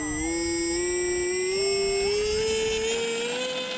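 An E-flite Aeroscout RC plane's electric motor whines steadily and close, its pitch rising slowly and shifting slightly over a few seconds, with no talk.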